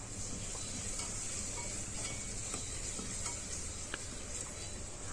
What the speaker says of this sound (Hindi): इसमें मैं नीचे ही इसमें लहसुन अदरक का पेस्ट डाल के इसको हिला